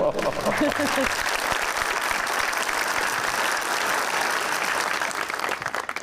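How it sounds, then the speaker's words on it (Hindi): A television studio audience on a live Aik News show bursts into loud, sustained applause. A voice speaks briefly at the start before the clapping takes over and holds steady throughout. "भाई, ताली।"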